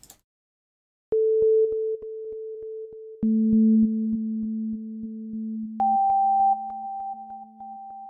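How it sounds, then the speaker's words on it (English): Pure sustained sine tones at three pitches, run through the Valhalla Supermassive reverb plugin, enter one after another and overlap, swelling into a wide, lingering wash with faint repeating echoes. "It's a nice big lush reverby delay kind of effect."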